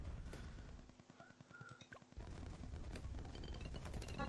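A Dartling Gunner's ability firing in Bloons TD 6, heard as loud, dense bursts of rapid gunfire that briefly thin out partway through before a heavy barrage resumes.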